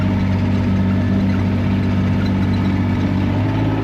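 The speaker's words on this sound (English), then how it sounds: "So I'm just driving across the stubble," A vehicle drives across a stubble field, its engine humming steadily at a constant low drone throughout, close and loud, with no speech.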